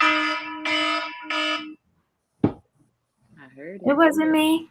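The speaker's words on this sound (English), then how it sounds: "Sorry, that was my alarm." Three sustained, evenly spaced electronic alarm tones sound loud and near, followed after a short pause by a click and then people talking.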